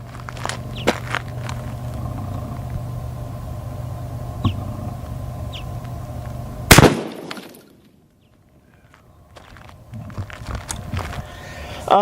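A shotgun fires a single 3/4 ounce rifle slug at a homemade armor plate about 15 yards away, one loud sharp blast midway through, followed by a brief hush and then faint outdoor rustling.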